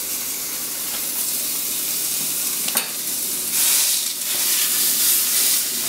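Two pounds of ground chuck sizzle and fry steadily in a hot pan on a preheated stove, a continuous close hiss with occasional stirring scrapes and swells in intensity.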